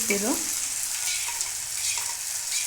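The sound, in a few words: tempering frying in pan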